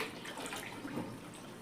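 Water runs steadily into a bucket being filled for a fish tank, a continuous soft splashing rush that stays fairly faint and even throughout.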